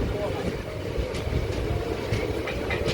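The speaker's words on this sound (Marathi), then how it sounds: "दिवा रोहा ट्रेन आहे, नाही मेमू ट्रेन" A MEMU train on the Diva–Roha route rumbles steadily and close, with a continuous low roar of wheels and carriage noise and faint higher rattles throughout.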